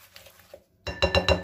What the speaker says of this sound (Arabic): انا هعملها بالمضرب اليدوي.